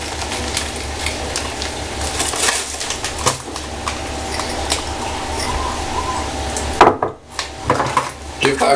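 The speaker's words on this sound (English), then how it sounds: "Just mix all the dry ingredients together." Dry cake ingredients, brown sugar among them, being mixed in a bowl for a chocolate and banana cake, a steady scraping and clinking of utensil against the bowl with a couple of sharper knocks near the end.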